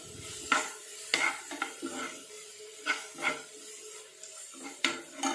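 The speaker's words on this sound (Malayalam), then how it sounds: "നന്നായിട്ടൊന്ന് വഴട്ടിയെടുക്കാം" Ingredients for oyster mushroom thoran being sautéed in a pan, with a soft ongoing sizzle broken by sharp scrapes and clinks of a spoon against metal every second or so, close and fairly quiet, no talking.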